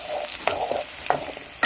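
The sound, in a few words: Torn dried red chillies sizzling in hot oil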